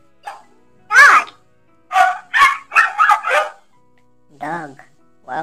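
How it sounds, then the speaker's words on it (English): A talking flash card toy plays a dog-bark sound between a voice naming the card, giving a few short, bright yaps in quick bursts with speech around them. "Next card name is? Dog."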